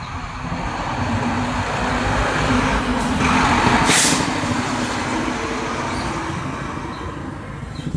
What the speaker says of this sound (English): a massive truck.